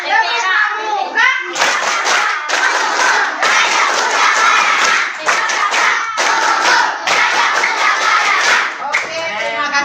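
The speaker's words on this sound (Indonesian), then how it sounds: "Semuanya tepuk pramuka" Elementary school children at a Ramadan Islamic school event clap the rhythmic Pramuka scout clap together, loud bursts of patterned clapping and shouting from a crowd in bursts, after a brief spoken lead-in.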